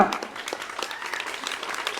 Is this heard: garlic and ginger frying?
no